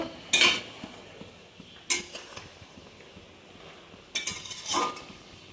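A metal pot lid is handled while prawns and kochur loti cook, giving three separate clattering clinks spaced a second or two apart. The last is a double knock, with quiet kitchen background in between.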